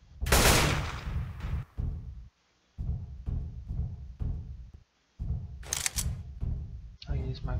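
A few pistol shots crack out as sharp, separate bursts in Left 4 Dead 2 on a custom pony-themed addon map, with a player talking between and over them.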